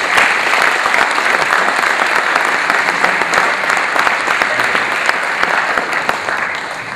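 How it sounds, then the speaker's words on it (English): Loud, sustained applause from a large audience at a formal event, a thick, even roar of many hands clapping that holds steady for the full seven seconds and tapers slightly at the close. "Ladies and gentlemen, please give them a big round of applause"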